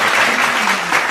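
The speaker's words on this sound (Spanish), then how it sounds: "todo el mundo aplaude" An audience claps in a dense, steady burst of applause, loud and close, filling the whole short moment with no speech over it.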